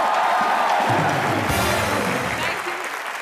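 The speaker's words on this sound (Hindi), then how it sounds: "एक बार जोरदार तालियां दीपिका पादुकोण के लिए" A studio audience on a comedy show applauds loudly for Deepika Padukone, a dense roar of clapping with some cheering that stays steady and eases slightly near the end, while a voice carries through the crowd noise.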